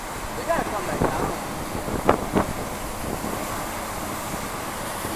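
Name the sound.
hurricane surf and wind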